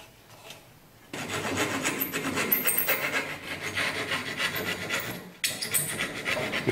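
Hand rasping or filing of a wooden tenon made from scrap wood for a toy, a steady, close abrasive rubbing that runs continuously for several seconds, pauses briefly, then resumes.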